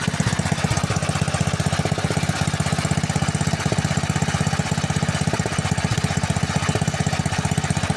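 A Kentavr MK40-1/6 motor cultivator engine, with freshly adjusted valve clearances, idles steadily nearby, its muffler giving a fast, even puffing exhaust beat that runs unbroken throughout.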